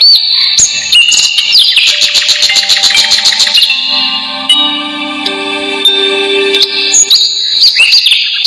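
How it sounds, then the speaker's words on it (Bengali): Birds call in quiet hill country: a bright, loud run of rapid repeated chirps, then longer clear whistled notes and trills, close and unaccompanied. "শুধু বাতাসের শো শো শব্দ আর দূরে কোথাও পাখির ডাক।"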